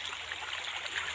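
A river flows through a village during dry weather, a steady close rush of trickling and gurgling water with no voices.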